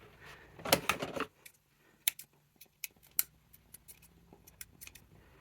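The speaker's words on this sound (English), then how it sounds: "Got some frayed edges here. I'm going to trim those off." Scissors snip frayed edges off a handmade autumn junk journal, a dense burst of cutting sounds followed by several separate short, crisp snips spaced out, fairly close and alone.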